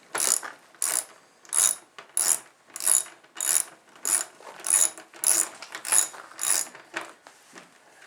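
Ratchet wrench with a 10mm socket worked on a DRZ125 motorcycle, giving a steady run of about a dozen crisp clicking pulls, close up and rhythmic, with no voices.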